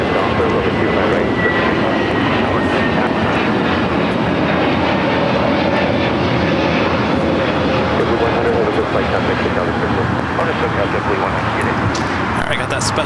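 A Boeing 787 Dreamliner in a special livery at LAX gives off a steady, loud broadband jet roar that holds evenly throughout, with faint voices underneath.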